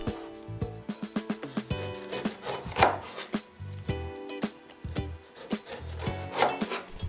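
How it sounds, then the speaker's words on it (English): A knife thinly slices the skin off a pineapple from top to bottom. It makes rapid, repeated rasping cuts with scraping strokes and occasional firmer thuds, close-up and alone. "I thinly cut the skin from top to bottom, always wasting as little as possible"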